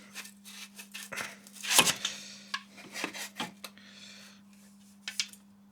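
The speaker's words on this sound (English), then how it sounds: "we're going to get our old muffler, old new muffler, and just slide that back on." An exhaust muffler is slid back onto the pipe of a CF Moto 450MT motorcycle, heard as scraping, rasping metal rubs and a few sharp knocks close up over a steady low hum.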